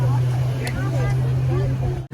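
A speedboat engine drones steadily at a boat landing in Ooty while passengers in life jackets board, a constant low hum under people's voices, cut off by a brief drop near the end.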